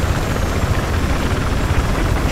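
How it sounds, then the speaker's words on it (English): Helicopter rotor and engine noise in Battlefield 4 (Gulf of Oman map): a steady, dense low rumble with rapid rotor thumping that holds at an even loudness throughout, with no voices over it. "I got eyes on an enemy chopper!"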